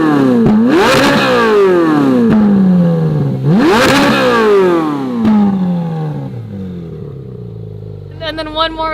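A Ferrari 458 fitted with a custom F1-style exhaust revs hard twice, each rise climbing to a loud scream and falling back, followed by a third softer rev and a brief crackle.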